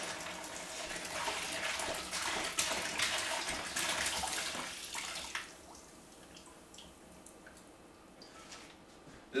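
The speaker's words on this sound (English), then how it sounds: "Now if that's done, just pour it back in your bowl." Water poured from a wine-making carboy back into a bowl, a steady splashing gush for about five seconds that thins to a quieter trickle and drips, with no talking.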